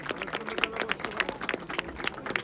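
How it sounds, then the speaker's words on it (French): An audience applauds the Olympique de Marseille president at a club partnership anniversary event, a steady burst of many hands clapping with irregular sharp peaks, fairly close and with no speech over it. "qu'on applaudit très très fort"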